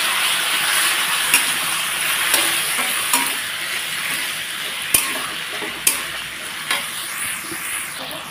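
Prawns and potatoes fry in a pan with spices and a splash of water, a steady broadband sizzle running throughout while a spoon scrapes and knocks against the pan in scattered sharp strokes.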